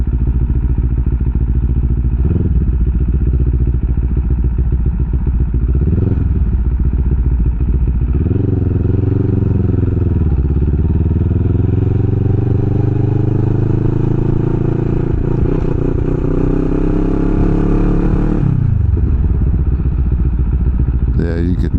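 A 2024 CFMoto CLX 700 motorcycle engine heard up close while riding, loud and jerky, with revs surging and dropping through several gear changes and wind roar; a rider's voice talks over it at times.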